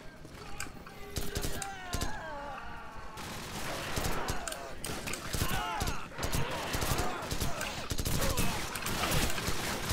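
Gunfire in Call of Duty 4: Modern Warfare: dense, rapid bursts of rifle and machine-gun fire crackle throughout, close and distant shots overlapping, with shouted voices mixed in among the shooting.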